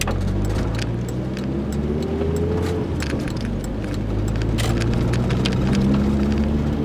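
A Volkswagen GTI engine lugs at low revs while climbing a hill, a steady low drone with road noise and occasional faint clicks, close and continuous throughout.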